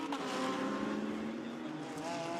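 GT race cars at Monza sweep past toward the chicane in a steady, fairly faint engine drone with a rising and falling roar and no clear single pass-by peak.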